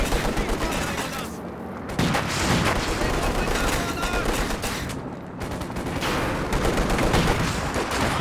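Dense battlefield gunfire from the Company of Heroes 2 strategy game, with machine gun bursts from an upgraded Panzer IV firing on infantry amid explosions and other weapons, loud and continuous with game commentary talk running underneath.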